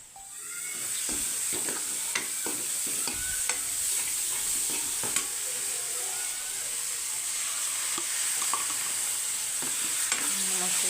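Vajadi (tripe) cooks in a pan over a continuous close sizzle and hiss, while scattered spoon scrapes and taps from stirring cut through at irregular intervals.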